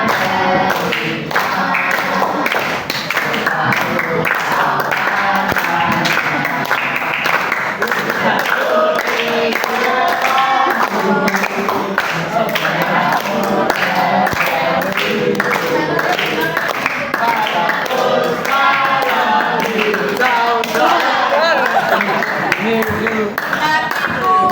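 A group sings together while clapping hands in time, the steady claps running under loud, continuous voices for the whole stretch.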